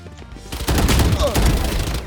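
Gunfire in Call of Duty Modern Warfare II on PS5, a burst of shots crackling in rapid succession at moderate loudness, heard through a 3D spatial-audio gaming headset.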